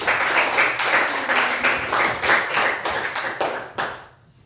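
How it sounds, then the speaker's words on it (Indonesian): Students in an Indonesian classroom lesson applaud a classmate, a dense burst of many hands clapping together with rhythmic sharp claps throughout, fairly close and loud, tapering off quickly at the end. "Tepuk tangan dulu buat Nurul."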